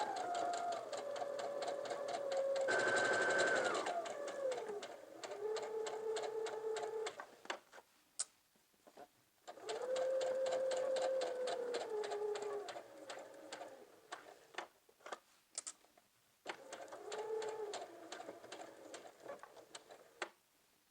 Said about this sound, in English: we're going to attach the lining to the fashion fabric with a basting stitch